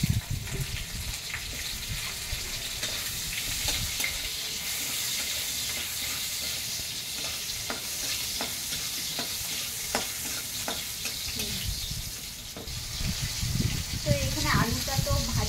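Cumin tempering and potatoes sizzle in hot oil over a wood-fired village stove, a steady crackling fry broken by scattered spatula scrapes and stirring clatter, with someone talking over it.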